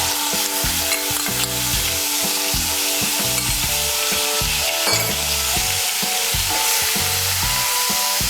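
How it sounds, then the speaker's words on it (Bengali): Onion paste fries in hot oil with tempering spices, giving a continuous loud sizzle broken by rhythmic scraping and stirring of a utensil against the pan, with no talking. "পেঁয়াজ বাটাটাকে মিশিয়ে নেব তেলের সঙ্গে, মিশিয়ে নিয়ে একটু ভেজে নেব"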